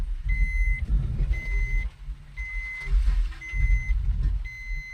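Vehicles on a road beside an unfinished main bypass, a large truck close by with its reversing alarm beeping in a steady, regular rhythm over a low rumbling engine.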